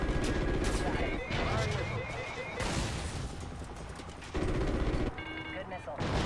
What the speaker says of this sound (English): I think I'm taking fire